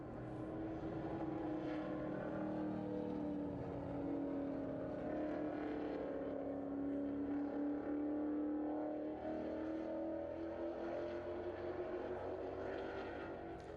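A 2012 Mustang Boss 302R race car running on a circuit during a vintage racing event, its engine a loud, steady, droning roar that holds without a break.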